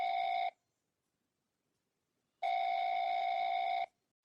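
A telephone call rings out on the line: a short ringback tone, a pause of silence, then a second, longer ring, steady and clear with no voices.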